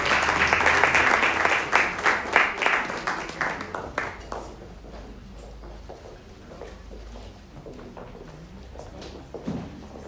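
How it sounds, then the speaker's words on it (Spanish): Audience applause for a church choir, loud and dense for the first four seconds, then thinning into scattered claps and fading to a quiet room with a few stray sounds. "Nos vamos a invitar al coro con un aplauso."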